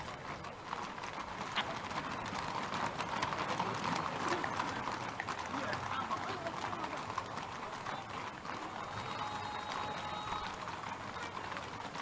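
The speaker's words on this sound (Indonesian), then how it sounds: "Suara kaki kuda sudah terdengar." Hooves of a mounted cavalry unit clip-clop steadily as horses pass close behind during a presidential escort from the palace to Monas in Jakarta, under constant crowd noise and talk.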